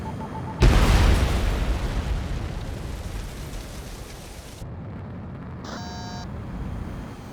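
Bombs exploding in the jet combat game Ace Combat 7, a loud deep boom that hits sharply and then fades into a long rumbling roar, with short electronic warning tones near the end.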